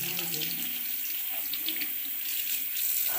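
Tap water running steadily at a sink to rinse aquarium parts while cleaning a tank left unclean for a month, a soft continuous hiss with no pauses, fairly quiet and close.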